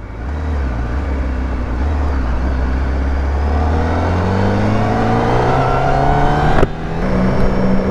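A Honda CBR1000RR-R SP engine revs up steadily, its pitch climbing over several seconds to about 4000 rpm with the exhaust valve open, before a sharp crack and settling into a high idle.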